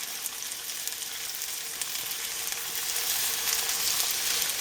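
Chicken pieces brown in a little cooking oil in a heated cast iron skillet, giving a steady, close sizzle and crackle that swells slightly toward the end, with no talk.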